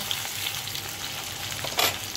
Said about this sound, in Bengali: সেটা ভালো করে এবারে তেলে ভেজে নেব।